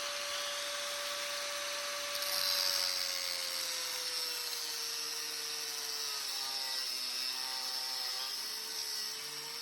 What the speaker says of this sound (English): I'm cutting some pieces of this rebar to go down inside of my pipe at the bottom to be a grate